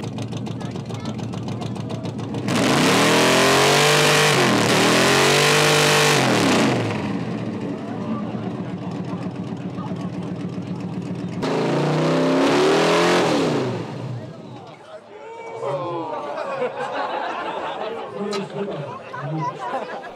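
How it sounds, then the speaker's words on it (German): American cars blast their exhausts at a decibel contest during a US-car meeting in Freiberg, with two loud, sustained revving bursts from the engine separated by a quieter idle stretch, while the crowd chatters throughout. "Die Teilnehmer hatten die Möglichkeit, den lautesten und kraftvollsten Sound aus ihren Auspuffanlagen zu präsentieren."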